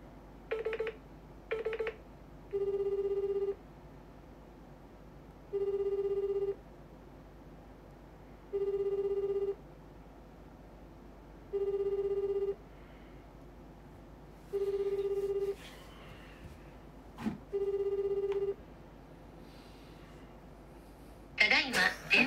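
A phone dials out with a couple of quick tones, then repeats a steady ringback tone of about two beeps at a time, spaced evenly about three seconds apart, with faint movement and a brief burst of noise at the end.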